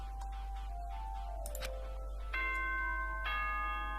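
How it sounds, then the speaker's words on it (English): A bright electronic chime plays in Danganronpa 2: Goodbye Despair, a few sustained melodic tones stepping through a short ding-dong pattern over quiet background music, with no talking. "Ding dong bing bong."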